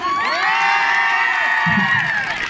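Loud crowd cheering and whooping from the audience at a Nepali comedy night concert, a sustained burst of shouts and high-pitched yells lasting a few seconds with a brief low thump near the end.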